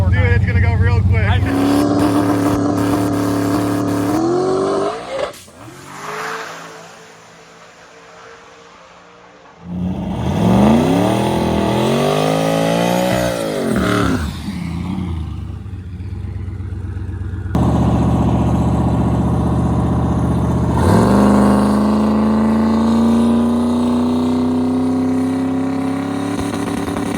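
Drag race car making repeated full-throttle passes, the engine note sweeping rapidly upward in pitch through gear changes, loud and close, with engine noise between runs and some talk over it.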